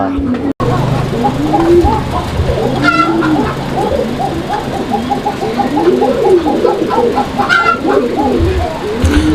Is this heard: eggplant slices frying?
no